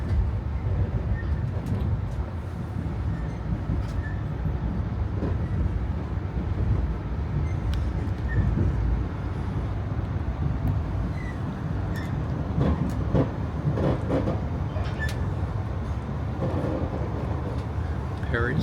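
Via Rail passenger train rolling steadily, as heard from the rear car near Parry Sound: a continuous low rumble with rhythmic clatter and occasional squeals, with people talking over it.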